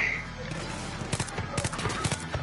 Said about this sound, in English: That is a machine gun.